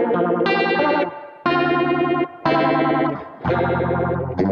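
Electric guitar played through an MXR Phase 90 phaser pedal, a swirling, warbling tone like a rotary speaker, in four loud sustained chord phrases separated by brief dips, no talking.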